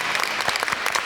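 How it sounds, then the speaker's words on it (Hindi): Studio audience applause on a Pakistani TV talk show, a short dense burst of many hands clapping at steady loudness with no talk over it. "इनके लिए बहुत सारी तालियां।"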